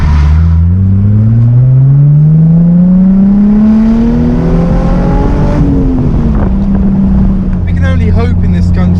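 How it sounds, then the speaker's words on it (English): Open-top convertible car driven with the roof down, its engine note rising steadily in pitch as it accelerates, loud and close, then settling, with wind and road rumble throughout. "I am now driving the car"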